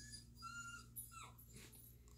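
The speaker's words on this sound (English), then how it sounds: "Sorry if you guys hear the dogs whining in the background." Several dogs whine anxiously indoors in the background, a faint, thin whimpering that rises now and then over a quiet room, with no talking.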